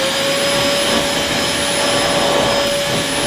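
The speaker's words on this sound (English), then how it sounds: "it should grip to the floor a bit better and obviously pick up better with full suction" Vytronix budget bagged cylinder vacuum cleaner running at full suction, a loud, steady, close whine and roar that holds unbroken throughout with no talk.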